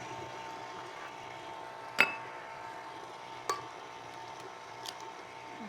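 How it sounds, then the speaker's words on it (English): Two eggs cracked one at a time into a mixing bowl for pistachio cookie dough while an electric mixer keeps running, giving a few sharp, close clicks and taps over a steady low whir. "I'm going to crack them while it's going."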